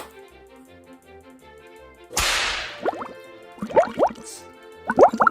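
Tap water gushes into a sink as hands are washed before baking, a sudden broadband rush followed by splashing, dripping and rubbing sounds that come in short bursts, close and fairly loud with no talking.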